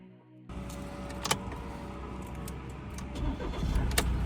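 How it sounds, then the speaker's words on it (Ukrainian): A 2.0 CDTI diesel in an Opel Insignia B cranks and catches almost at once, then settles into a steady, even idle with a low rumble, heard close and alone. "Двигун запускається з півоберта, працює стабільно та без сторонніх шумів."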